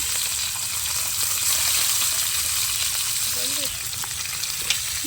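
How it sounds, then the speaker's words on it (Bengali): Fresh pond fish fries in hot white oil with a steady, dense sizzle that runs throughout, interrupted only by a few faint clinks and a brief low voice. "মাছ ভাজা হবে, তেল সাদা তেল, তেল গরম হয়ে গেছে।"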